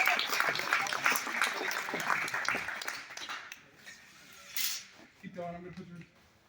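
Crowd applause and cheering for UNOH students on a race team, a dense burst of clapping that fades after a few seconds, followed by scattered sounds and a voice.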